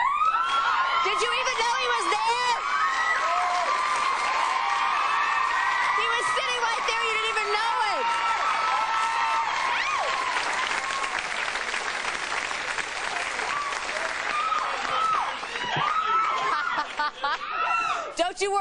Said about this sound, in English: You just sit there and let them scream for you for a little while.